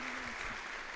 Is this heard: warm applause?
yes